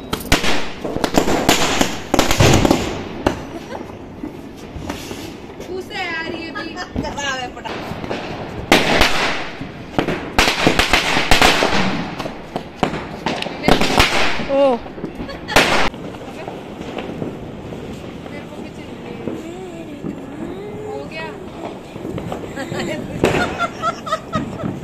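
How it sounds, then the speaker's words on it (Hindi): Diwali firecrackers bursting outdoors: repeated loud cracks and pops in quick irregular volleys, with voices talking and calling out over and between the bangs. "तो यहाँ पे मम्मी ने बम फोड़ दिए हैं"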